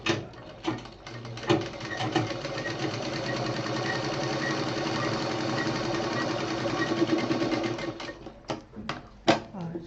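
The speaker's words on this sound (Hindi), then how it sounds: "जहाँ से ये जोड़ लगा था वहाँ से इसको हमें सीधा सिल देना है।" A sewing machine stitches a seam on a fabric foldable hanging pouch, whirring in a steady close run that starts and stops in short bursts at the beginning and end.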